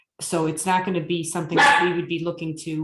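A pet dog barks in short yips and woofs at home, intermittent and fairly close, mixed in and overlapping with someone speaking continuously.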